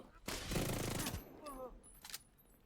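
Gunfire in The Division 2 rattles out as a dense automatic burst lasting under a second, followed by a few scattered sharper shots and faint talk.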